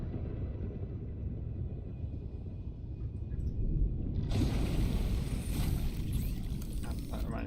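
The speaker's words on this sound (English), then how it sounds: "God, I fucking love a thunderstorm." A storm in the Subnautica Below Zero video game rumbles as a deep, continuous low roar, swelling louder partway through as a hissing wash of wind or rain joins in, with no one talking.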